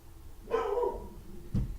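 A single dog bark followed by a softer second yelp, somewhat distant, over a quiet background.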